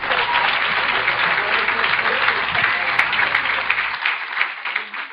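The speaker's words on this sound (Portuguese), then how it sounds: "Você pode se aplaudir a ti mesmo por estar aqui" A seated church congregation applauds steadily, a dense, loud wash of clapping that holds for several seconds before thinning toward the end.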